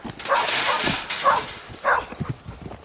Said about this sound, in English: Oh, that's such a good dog.